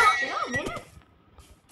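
A Minecraft horse lets out a loud, wavering whinny as it is struck in the game, followed by a few faint soft thuds and quiet background.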